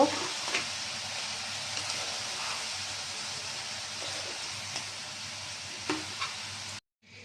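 Shrimp being stirred with turmeric, salt and coriander powder in a hot pan, an even sizzle under occasional scrapes and knocks of the spoon, stopping abruptly near the end.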